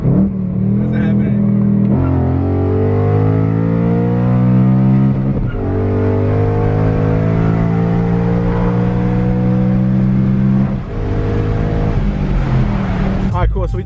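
Car accelerating hard through the gears during a tuning pull, engine revving loud and close with rising pitch, brief drops at each shift, then climbing again.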